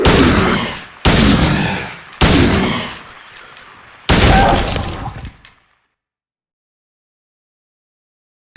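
Several loud, close gunshots from a Silent Hill 2 encounter with enemies, each blast followed by a ringing decay, firing in irregular single shots before falling silent.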